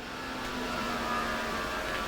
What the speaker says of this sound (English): Mom's car makes some really odd noises. You hear that? So that's its startup routine.